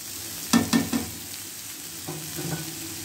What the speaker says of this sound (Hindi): इनको हमने फ्राई करते रहना है। मुसलसल चम्मच हिलाते जाएंगे इसमें।